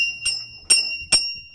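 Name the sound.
ringing a bell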